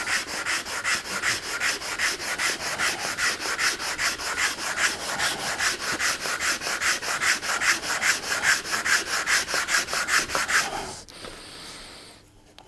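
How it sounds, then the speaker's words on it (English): Hand sanding of wood during small box making, a steady run of rhythmic back-and-forth rasping strokes, close and fairly loud, ending near the last second in a quieter pause with no talk. "You'll feel the difference between the sanded and the saw cut."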